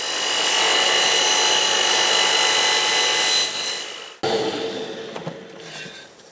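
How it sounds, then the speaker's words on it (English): A mitre saw makes a mitre cut in wood, a loud sustained whine of the blade through the workpiece that drops off sharply, followed by quieter spin-down and a few clicks, with no speech. "And there's that first mitre cut."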